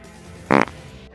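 A single loud, brief fart sound effect from a zombie comedy film, a short sputtering burst standing alone without talk.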